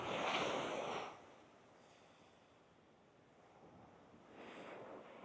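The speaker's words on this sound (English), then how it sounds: "what an absolutely beautiful beach location this is" Surf rolling onto Bias Tugel beach in Bali, two loud broad washes of breaking waves at the start and end with a quieter rushing lull between, wind buffeting the microphone throughout.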